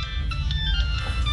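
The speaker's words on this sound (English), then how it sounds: "That has to be the most annoying ringtone on the planet." Mobile phone ringtone playing a bright, repeating electronic melody over a heavy low rumble, close and fairly loud for a brief moment; no one speaks.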